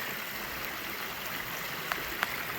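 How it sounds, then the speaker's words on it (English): A pretty little creek in New York, worked for gold prospecting, flows in a steady close wash of water with a couple of faint tapping clicks. "Pretty little creek we're on."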